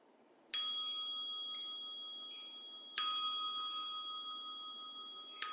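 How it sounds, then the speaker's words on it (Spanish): A meditation bell rings out twice at the start of a Zen Rinzai sitting, each strike a clear bright tone that slowly fades, the second louder, with a third strike just beginning at the end. "Voy a tocar la campana al inicio y al final."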